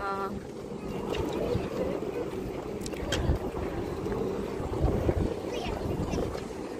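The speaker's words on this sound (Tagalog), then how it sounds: "Jet ski show here in Mina District." Jet ski show at Mina District, Doha Port: a steady wash of wind, engine drone and water noise on a breezy harbourfront, fairly loud and continuous throughout.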